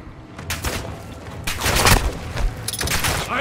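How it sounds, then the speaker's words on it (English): Dense gunfire in Call of Duty DMZ, a multiplayer shooter, with rapid overlapping shots and a heavy burst near the two-second mark, loud and close, with no voice over it. "Taking fire!"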